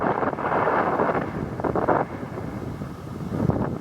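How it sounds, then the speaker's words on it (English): Steady, loud wind buffeting the microphone at Koolewong Lookout above Woy Woy Bay, a broad continuous roar with gusty swells and no speech. "Oh, she's getting really windy now."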